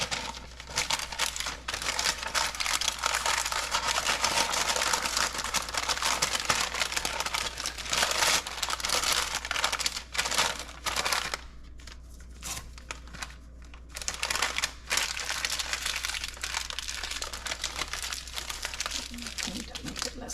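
Butcher paper is crumpled and torn up close, a loud, continuous crinkling and ripping that breaks off briefly and then resumes, while people talk nearby.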